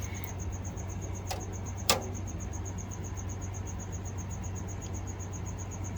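Crickets chirp continuously in a gecko enclosure, a steady high rapid trill close by, with two sharp faint ticks and no talking.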